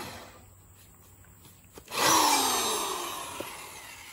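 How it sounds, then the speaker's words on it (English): A power drill spins up abruptly after a quiet stretch and keeps whirring with a high, steady grind, drilling holes for LED lights in a gooseneck trailer, close by and loud, with no talking. "now I'm gonna drill the holes for the, I got the little LED 3/4 lights"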